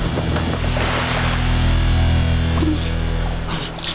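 Splashdown into a small, near-freezing lake between mountains in a wilderness survival video game: a steady, loud rush of water and wind noise fills the whole clip with no talking.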